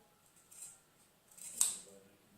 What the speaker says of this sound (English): I'm trying my hardest to cut this. This is super hard to cut for some reason.